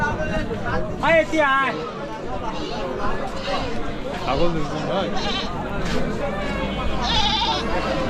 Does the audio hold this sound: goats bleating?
yes